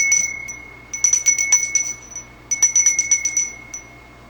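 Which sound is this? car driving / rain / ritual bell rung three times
ritual bell rung three times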